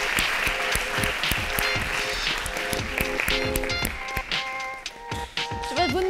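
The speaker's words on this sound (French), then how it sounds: "On l'applaudit, s'il vous plaît." Applause from an audience, a dense patter of clapping with scattered taps and a voice speaking over it, thinning toward the end.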